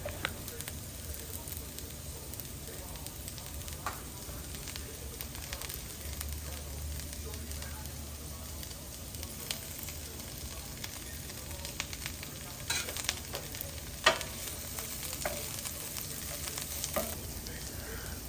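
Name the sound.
vegetables (asparagus, fennel, peppers, tomatoes, mushrooms) frying and stirred in pan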